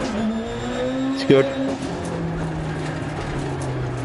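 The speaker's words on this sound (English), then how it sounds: "Good to hear the anti-lag properly." Rally car engine in Dirt Rally 2 with anti-lag, a steady droning engine tone broken by a short burst of popping and crackle, close and loud, with a brief spoken remark over it.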